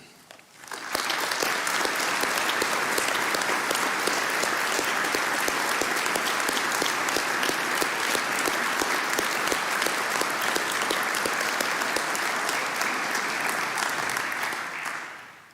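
A school speech day audience gives a sustained, loud round of applause for the prefects, dense even clapping that swells in quickly and carries on for about fourteen seconds before dropping away.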